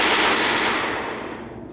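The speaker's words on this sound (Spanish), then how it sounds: "El disparo está dado." A loud, rapid burst of automatic gunfire in Free Fire that rattles briefly and then fades out.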